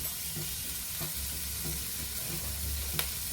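Onions sautéing in a pan with red chilli powder and salt, a continuous soft sizzle over rhythmic scraping and tapping of a spoon stirring.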